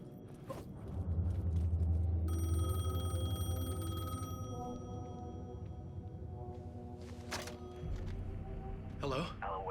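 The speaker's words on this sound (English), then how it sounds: "payphone was ringing" A payphone rings in the video game Alan Wake 2, a bright bell tone that repeats a few times over a heavy low rumble, with creaks and other game noises around it.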